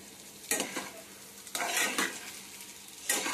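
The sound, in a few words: stirring garam masala into fried rice in a pan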